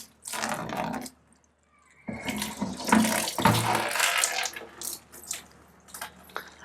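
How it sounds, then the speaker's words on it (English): A Kent bathroom water softener flushing during regeneration, a steady rush of water pouring and splashing as if into a sink, stopping briefly then surging back louder with dripping and gurgling, no voices. "once you start turning knobs, you'll find that the flushing starts"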